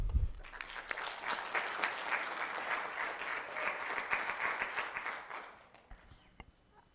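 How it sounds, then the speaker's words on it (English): An audience at a city council meeting claps in a dense burst that builds, holds for several seconds, then thins out into a few scattered last claps. "Please refrain from clapping until the end."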